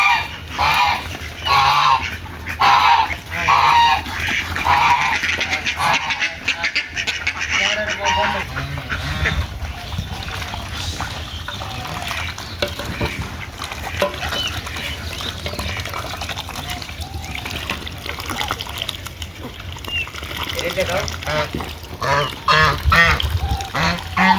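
Ducks and geese, including Chinese geese, honk and quack busily as they crowd around feed of mixed rice bran in a village yard, with a steady, overlapping chorus of calls close by.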